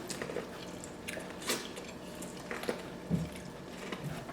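Close, wet mouth sounds of someone chewing a deshelled seafood boil with king crab, with soft squishy bites and smacks repeating unevenly over a few seconds and no talk.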